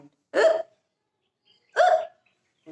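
A voice imitates an elephant's hiccups in a children's story: two loud, separate hiccup sounds about a second and a half apart, with a third just starting at the end.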